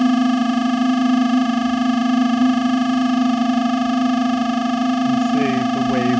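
A synthesized triangle wave tone, pitched higher during sound design for song creation, holds steady and loud with stacked harmonics, and a brief shifting burst of extra tones arrives near the end.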